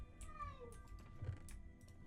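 Game cat meowing in a Minecraft-style world, a few faint mewing calls with rising and falling pitch over low background sound.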